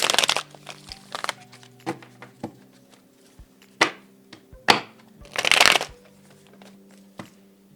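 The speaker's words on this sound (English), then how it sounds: "I'm having a little bit of a hard time shuffling this" Tarot cards being shuffled by hand in bursts of riffling and slapping, with several loud flurries and sharp taps between quieter pauses, close up and with no talking.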